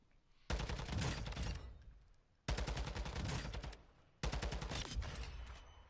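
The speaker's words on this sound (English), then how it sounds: "I'm going to aim and shoot at this guy in fully automatic without engaging any rotational aim assist" Three long bursts of fully automatic gunfire ring out in the video game DMZ, each a rapid stream of loud, sharp shots separated by brief silences.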